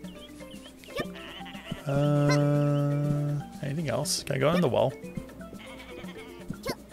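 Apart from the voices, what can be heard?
sheep bleating in video game Koa and the Five Pirates of Mara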